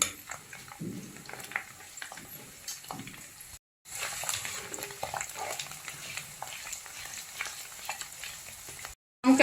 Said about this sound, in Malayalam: നമുക്ക് നന്നായിട്ടൊന്ന് ഇളക്കി കൊടുക്കാം. ഈ ജിഞ്ചറും ഗാർലിക്കും ചില്ലിയൊക്കെ നന്നായിട്ടൊന്ന് വാടി വരണം.